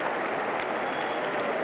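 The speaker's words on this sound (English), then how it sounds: "And the crowd roars." A large crowd at the 1997 US Open women's semifinal in tennis roars and applauds, a dense steady wash of cheering and clapping heard alone.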